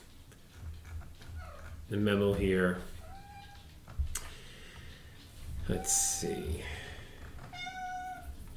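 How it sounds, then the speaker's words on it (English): A house cat meows several times, close and clearly, with drawn-out tonal cries scattered through the stretch while a person speaks quietly at intervals. "That's just my cat. Quiet cat."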